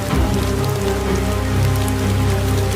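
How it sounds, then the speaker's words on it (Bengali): Stormy rain falling outside at night, a loud, steady downpour pattering on surfaces, dense and continuous with no voices. "বাইরে ঝড়ো বৃষ্টি"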